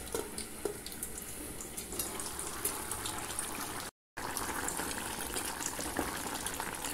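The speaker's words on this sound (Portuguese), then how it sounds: "Aqui tô fritando a salsicha para as crianças." Sausages fry in a deep layer of oil left over from frying potatoes, making a constant close hiss and bubbling that runs unbroken apart from a momentary dropout.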